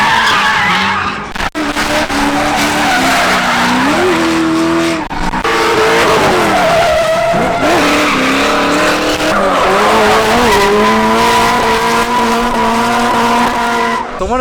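Cars drifting at a TX2K event give off loud, sustained tire squeals whose pitch rises and falls, over continuous engine roar, with no speech.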